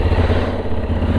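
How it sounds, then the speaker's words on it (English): A 2025 Honda CB750 Hornet with its stock exhaust runs close by, a steady low engine rumble with a faint mechanical clatter throughout, fairly loud and alone. "Let's go ahead and start this thing up."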